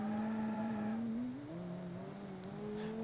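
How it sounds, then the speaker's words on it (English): Simulated car engine in the Automation game running under fuel starvation, a steady droning tone that wavers and shifts pitch as it turns choppy, close and fairly loud throughout. "you can hear the engine getting choppy from fuel starvation"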